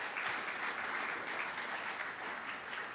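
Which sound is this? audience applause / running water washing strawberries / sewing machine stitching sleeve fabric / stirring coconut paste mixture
audience applause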